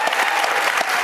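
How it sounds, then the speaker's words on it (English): A dense, steady round of crowd applause at a congressional candidates' debate for California's 34th district, loud and continuous for its whole brief length. "Let's give them a round of applause."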